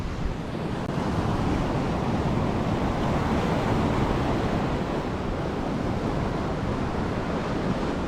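Steady roar of surf washing onto the beach at Praia da Marinha on the Algarve coast, broad and continuous with some wind across the microphone.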